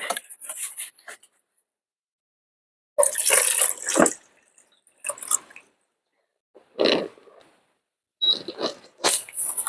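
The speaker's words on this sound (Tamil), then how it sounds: "இன்னும் கொஞ்சம் தண்ணி ஊற்றலாம். ஃபுல்லாக ஊற்றிட்டு" Short bursts of water splashing and trickling into a mist maker's container, separated by brief silent pauses, close and fairly quiet.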